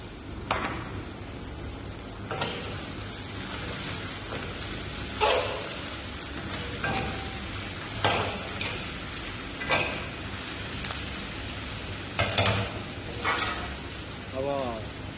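Cinnamon and bay leaf sizzle in hot oil in a pan while mutton curry is being cooked, a steady soft crackle with occasional sharper pops and stirring clatter, and a voice speaking faintly.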